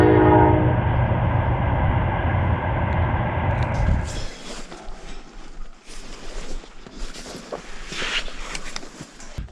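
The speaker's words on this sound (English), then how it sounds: "Freight train is rolling by us." A loud train horn blares with steady harmonic tones for about four seconds, then gives way to the rumbling clatter of a long freight train of about 30 wagons rolling past close by in Kazakhstan.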